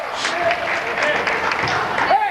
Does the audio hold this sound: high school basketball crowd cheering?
yes